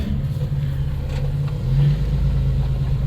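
Engine of a 1991 Dodge Grand Caravan SE reversing, a steady mid-pitched hum that swells slightly partway through as it backs up, close and continuous with no talking.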